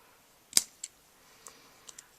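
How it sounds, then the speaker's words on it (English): Small scissors snip gold foil at close range, one sharp crisp cut followed by a few lighter, quieter clicks and snips over a quiet background. "I think I'm just going to snip this off"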